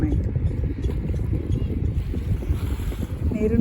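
A government-run air-conditioned boat cruises Dubai Marina at sunset, its steady engine rumble and water rush mixed with wind buffeting the microphone, while voices talk faintly in the background.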